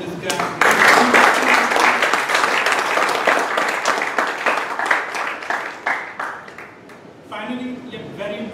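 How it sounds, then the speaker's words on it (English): Sustained applause fills a committee installation ceremony as the crowd claps for an honoree, dense and loud for most of the stretch before thinning out toward the end. "I think I have a round of applause for this guy."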